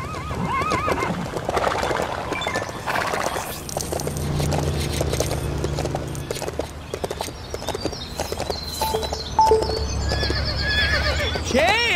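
In a Lego City Undercover video game, a horse whinnies several times over clip-clopping hooves and scraping sounds, loud and continuous throughout.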